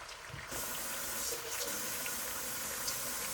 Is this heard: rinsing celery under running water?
yes